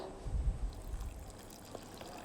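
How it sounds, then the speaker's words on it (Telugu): Brief low gurgle of water being poured into thick cream while making ghee, soft and close, then a quiet trickle fading out. "ఇప్పుడు దీంట్లోకి నేను వాటర్ వేస్తున్నాను"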